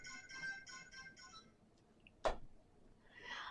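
A mobile phone ringtone plays faintly in a few repeated tonal bursts, followed by a sharp click and a brief soft rustle.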